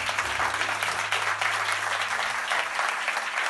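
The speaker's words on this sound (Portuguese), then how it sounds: "Uma salva de palmas." Audience applause after a talk on real estate partnerships, a steady wash of many hands clapping at even loudness throughout, with a faint low hum underneath.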